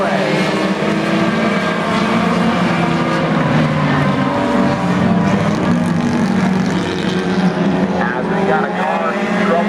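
Race cars roaring through a heat race at Brewerton Speedway, a dense, loud, continuous engine drone from several cars at once, with no break throughout.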